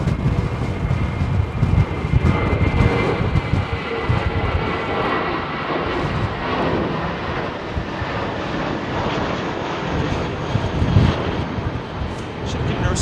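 Delta Boeing 767-400 jet departing on Heathrow runway 27R, a loud, close, sustained engine roar with rumbling low end and wind buffeting on the microphone, steady throughout with occasional voices underneath.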